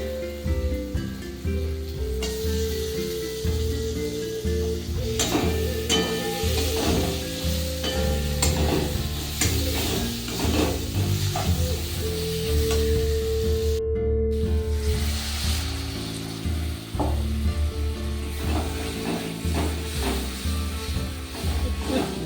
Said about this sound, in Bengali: জল দিয়ে দিয়ে মশলাটাকে কষিয়ে নিচ্ছি, নাহলে নিচে লেগে যাচ্ছে।